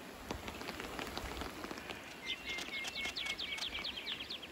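Rain patters on the ground at Uluru in the central Australian desert, a close, soft drip and splash of drops while birds chirp in quick bright bursts nearby.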